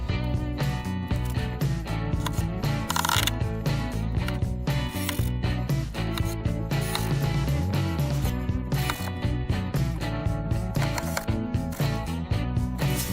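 Rapid, steady ratchet clicking drives lag bolts down into a wooden 2x4 workbench frame in a small workshop, with dense mechanical chatter running loud and close for the whole stretch and no talking.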